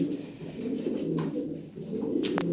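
A blue bar Lahori pigeon coos in low, rolling repeated phrases, close and clear, with a few sharp clicks and rustles in between.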